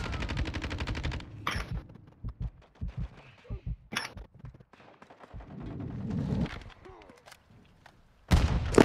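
Gunfire in a first-person shooter game, a free-for-all on a shipment containers map, comes as loud sharp bursts and single cracks separated by gaps, with voices talking in between.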